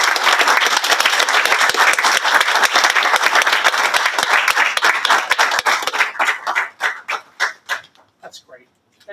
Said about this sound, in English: why don't you give a round of applause for our wonderful one?